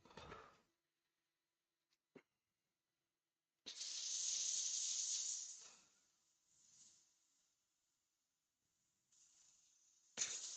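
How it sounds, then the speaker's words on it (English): An inertia sander works the outside of a Milliput platter on a woodturning lathe, giving short hissing, abrasive bursts. The longest lasts about two seconds, with fainter passes and silent gaps between them, close and quiet. "we're going to use the inertia sander"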